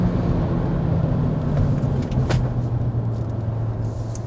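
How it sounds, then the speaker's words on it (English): Steady road and tyre roar from beneath a 2021 Hyundai Elantra cruising at high speed, a continuous low rumble with a faint hum and no voices. "you're hearing a little bit more noise coming from the bottom of the car"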